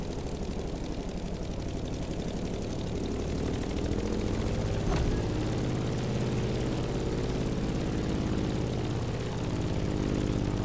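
A propeller plane's engine drones in The Crew Motorfest, a steady buzzing hum with a sharp blip midway, unbroken and alone at a constant, fairly loud level.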